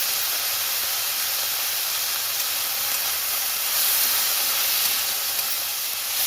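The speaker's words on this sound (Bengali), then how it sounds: "ডুমুরটা দিয়ে ভালো করে একটু ভেজে আর এখানে দিয়ে দিচ্ছি একটু হলুদ দিয়ে।" Figs frying in a pan with turmeric, giving a steady close hiss of sizzling oil that runs unbroken and swells slightly near the middle, with no voices.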